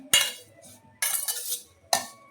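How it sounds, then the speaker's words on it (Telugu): A spoon scrapes and clinks against a bowl while amla pickle pieces are mixed with salt and chili powder, three sharp bursts of clatter with soft stirring between them, close and without talk. "ఈ ఉప్పు కారం ఇది బాగా పట్టిలాగా ఒకసారి మొత్తం అంతా కలుపుదామండి."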